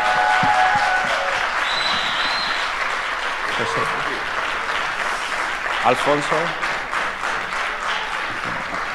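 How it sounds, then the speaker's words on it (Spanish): A convention audience at Starraco Unlimited 2023 claps for the Spanish voice actors of Cobra Kai, sustained loud applause with whistles and cheers, while a voice speaks over it briefly. "Un aplauso para los actores y actrices que ponen su voz en esta serie."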